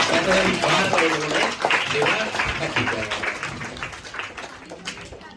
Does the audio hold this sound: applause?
yes